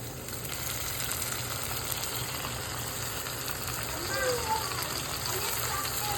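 Tomatoes added to onions frying in a pan for an egg curry with broad beans, a steady moderate sizzle under a steady background hiss, with a voice speaking over it.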